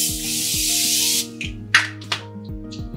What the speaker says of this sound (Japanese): 今日花粉やばやばだから花粉防止スプレーしとこう。